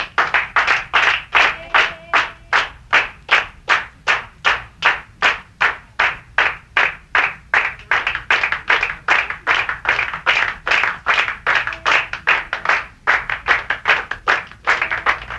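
Group of people clapping a steady rhythmic beat in unison, sharp loud claps repeating evenly for a long stretch with brief pauses, no voices over them.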